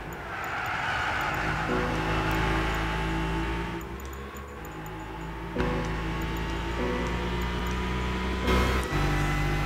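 A rally car lapping a stage in Gran Turismo 6, heard as a continuous engine drone that rises and falls with gear shifts and throttle, with no talking over it.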